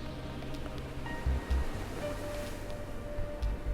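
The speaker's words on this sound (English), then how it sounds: "Move with the sound of the waves in the background." Ocean waves at Punta Cana wash steadily in the background, a constant hiss of surf with a few soft low thumps and no voices.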